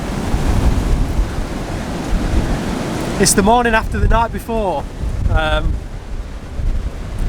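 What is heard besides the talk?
strong wind and sea waves on a Scottish island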